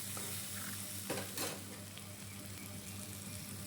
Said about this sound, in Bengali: তারপরে আবারও এটিকে ভালো করে একটু মেখে নিচ্ছি।